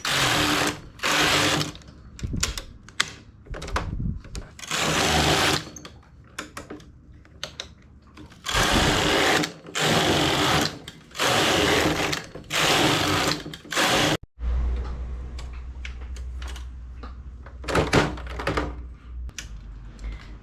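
Knitting machine carriage sliding back and forth across the needle bed while working a firm double-faced knitted hat, giving loud repeated mechanical clattering passes in bursts with short pauses between strokes.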